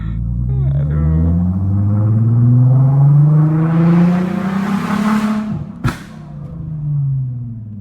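A Volkswagen Golf R32 engine revs hard from inside the car, pitch climbing steadily, then dropping sharply during a downshift with a quick blip and pop before the engine settles again.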